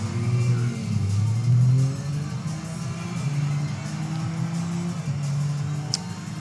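Jaguar E-Type convertible in Forza Horizon 3, its engine droning and revving steadily throughout with rising and falling pitch, a loud continuous in-game car sound with no talk over it.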